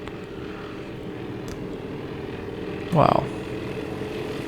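B-17 bomber engines droning steadily in the Task Force Admiral Midway scenario, a continuous low rumble that holds throughout, with one short exclamation from a man partway through.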